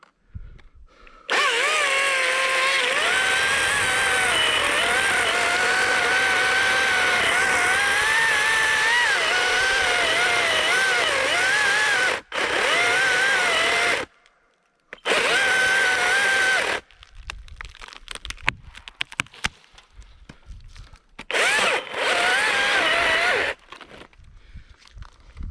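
Chainsaw cutting through a large tree limb at the branch collar during a tree job, a loud sustained engine whine with pitch shifting under load, pausing briefly before short revving bursts.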